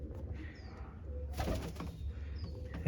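Pet pigeons on a rooftop loft give soft coos and a burst of wing flapping midway, close by, with faint chirps and low background rumble.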